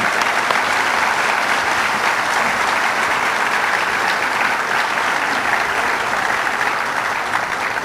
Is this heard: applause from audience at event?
yes